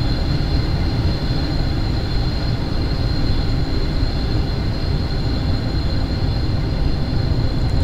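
Steady loud rumble and rolling hum of a subway train in a Seoul metro driving game, running continuously with a sustained high whine above it and no clear braking change.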